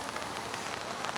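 Very heavy rain falls outdoors, filling the clip with a continuous, dense broadband hiss of downpour at a steady level.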